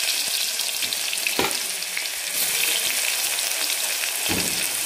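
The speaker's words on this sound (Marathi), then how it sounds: "2 मिनिट परतून घ्यायचं आहे कांदा चांगला तेलावर" Finely chopped onion fries in hot oil with spices, a dense, even sizzle heard up close with a couple of soft stirring knocks, no talking over it.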